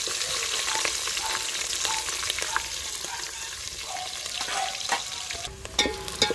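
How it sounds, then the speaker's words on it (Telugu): Onions and green chillies fry in hot oil after whole spices, a continuous close crackling sizzle with occasional stirring clinks near the end and no talking. "పలా దినుసులు వేగిన తర్వాత ఉల్లిపాయన పచ్చిమిర్చి కూడా ఫ్రై చేసేయాలి."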